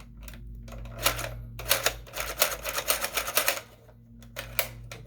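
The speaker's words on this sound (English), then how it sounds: "You can hear the change in sound of the trigger." A Dart Zone Pro MK3 blaster without batteries is clicked through its trigger and selector switch, giving a quick cluster of sharp, close plastic clicks and snaps, fairly loud against a quiet hum.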